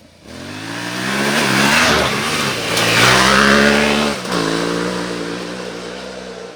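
A nearby Yamaha Tenere 700 motorcycle engine revs hard past 7,000 rpm, climbing to a high, loud whine, dipping briefly, then holding a steady high-rpm drone.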